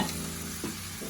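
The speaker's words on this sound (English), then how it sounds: "I'm gonna simmer that down" Food simmers in a pan with a soft, steady sizzle and faint bubbling, close and quiet, with no talking.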